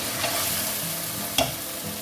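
Masala with turmeric and round-sliced tomatoes sizzles and fries steadily in a pan, with one brief scrape of a spoon stirring near the middle.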